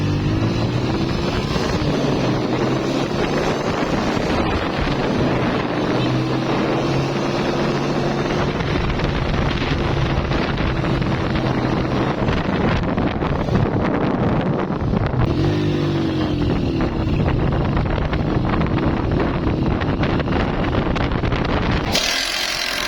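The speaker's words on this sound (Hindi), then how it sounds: "जब हम इस बाइक को चला रहे होते हैं तो इस बाइक के इंजन में शोर ज़्यादा पैदा होता है" A Honda CG 125 motorcycle with a clutch fault runs noisily on a test ride, its engine note rising and falling through several throttle sweeps and gear changes over steady wind rush, loud and close throughout.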